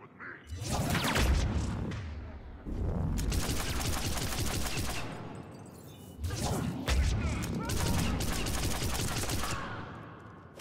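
Pistol fire and heavy combat in Mass Effect 3, with loud rapid bursts of shots in two long waves separated by a brief lull, crowded and chaotic with other weapon fire mixed in.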